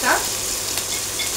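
Three pieces of Chandpur hilsa fish sizzle loudly in hot oil, a dense, close, steady frying hiss over the whole brief moment with no talking.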